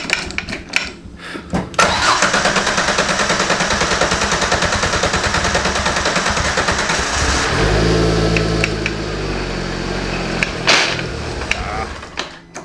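A kit-built Exocet sports car engine cranks, catches and runs, revving loud and close with a rough, uneven note before settling, with sharp mechanical clatter and bangs near the start and end.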